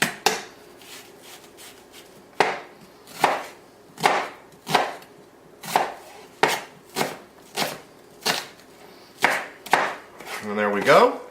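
A knife chops onion into large chunks on a cutting board, giving about a dozen sharp, evenly spaced thuds close by, with light scraping at the end.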